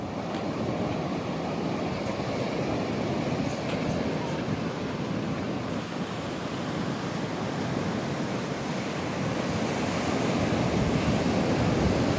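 Sea waves at a beach give a constant heavy wash of surf, a dense steady roar that swells slightly toward the end and carries no clear speech.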